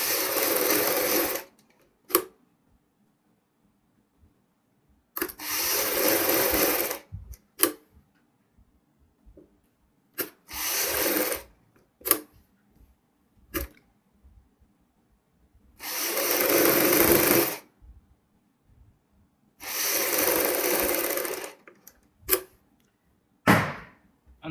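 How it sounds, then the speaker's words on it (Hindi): Sewing machine stitching the front V neck of a kameez, running in several loud bursts of steady whirring separated by pauses and small clicks, with no talking. "यहाँ पे हम एक पैर की सिलाई लगाएंगे।"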